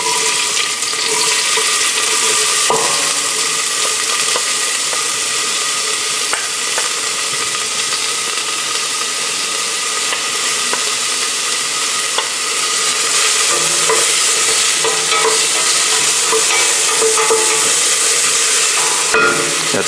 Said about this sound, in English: And we start by sauteing our onions.